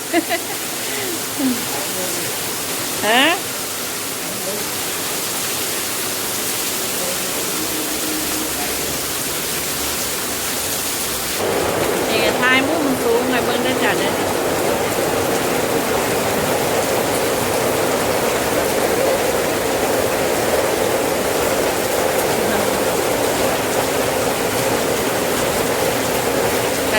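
Rain pours down outdoors onto trees and surfaces as a dense, steady hiss that grows louder and heavier partway through, with a brief voice near the start.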